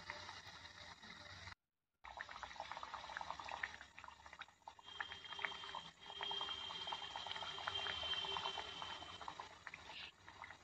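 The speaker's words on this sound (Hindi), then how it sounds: "मैंने पेन को गैस पे चढ़ा दी उसमें रिफाइंड ऑयल डाल दी गर्म होने के बाद उसमें कचौड़ी डाली" Stuffed matar kachori fry in hot refined oil in a pan over a gas flame, a continuous crackling sizzle with dense bubbling that stays steady at close range, broken by one brief dropout.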